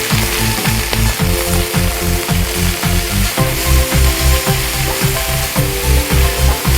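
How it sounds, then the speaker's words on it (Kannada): Palak spinach sautés with onions in a hot pan, giving a loud, close, steady sizzle. A spatula scrapes and stirs in quick, regular strokes throughout, with no talking. "ಈ ಪಾಲಕ್ ಸೊಪ್ಪು ಚೆನ್ನಾಗಿ ಬೇಯೋ ತನಕ ಬಾಡಿಸ್ಕೋಬೇಕು"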